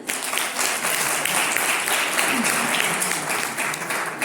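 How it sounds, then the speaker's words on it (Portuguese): A church congregation applauding during a talk: dense, continuous clapping that fills the room at an even level for several seconds, with a faint voice underneath. "Para palmas para eles aí"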